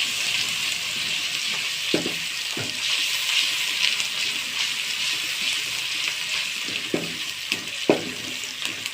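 Ginger and garlic paste fries in a pan with a steady, soft sizzle, and a few faint clinks of a spoon stirring sound close by.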